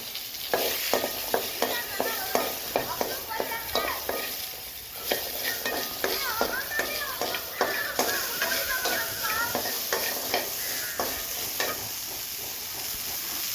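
Onions, about 150 grams, sauté in a kadai with steady frying sizzle and repeated scraping stir strokes of a spatula against the pan, close and fairly loud throughout.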